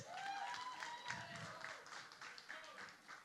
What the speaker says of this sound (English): Ladies and gentlemen, your hands together for Basha, Kiccha Sudeep, Salman Khan sir, and Jacqueline. A big round of applause.